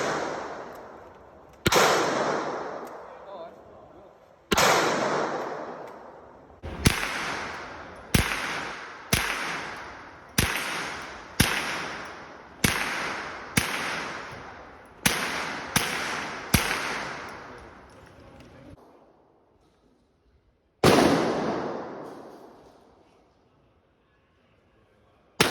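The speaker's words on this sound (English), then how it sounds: "So here's Roselle busting shots out of her assault rifle." An assault rifle fires single shots at a shooting range in Thailand. Roughly fifteen sharp, loud reports come at an uneven pace, some in quick succession and some spaced apart, each trailing off in a ringing outdoor echo, with a final shot after a pause.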